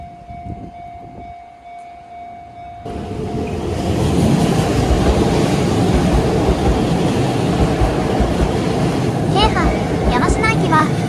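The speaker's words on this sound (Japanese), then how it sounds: "京阪京神線の電車が到着しました。" Keihan Keishin Line electric train pulling into Yamashina station, a loud broad rumble building and holding steady, with faint tonal squeals near the end and some background ambience.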